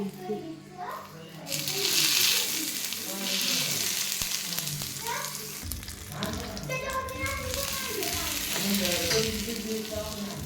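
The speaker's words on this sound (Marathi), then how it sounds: "थोडीशी मोहरी टाकून घ्यायची थोडंसं हिंग थोडं" Mustard seeds and asafoetida sizzle and pop in hot oil during chutney making, a loud, close frying hiss with crackles that swells after a quiet start, while a voice talks over it.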